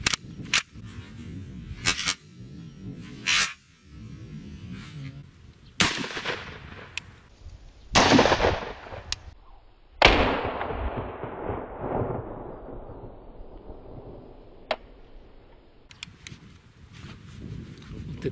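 Shots from a very short-barrelled SKS rifle fired outdoors, several sharp separate cracks spaced a few seconds apart, with long ringing decays after the louder ones and quiet gaps between.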